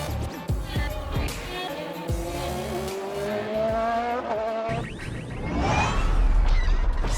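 Race cars roar through a VR racing video game, engines revving and shifting with tire squeal and skidding building toward the end, loud and continuous with no speech.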